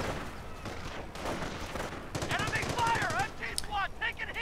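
Machine gun and mortar fire from a World War II style strategy game, with grenadiers shelled in a building; dense rattling bursts and booms throughout, a steady mid-distance barrage mixed with game voices.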